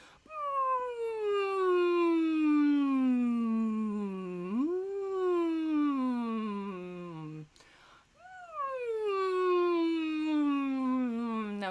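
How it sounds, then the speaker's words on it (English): A single voice hums through a vocal warm-up while chewing: a close, sustained hummed tone that glides slowly downward, swoops up and slides down again, and pauses briefly before another rising-then-falling hum. "Now hum and chew."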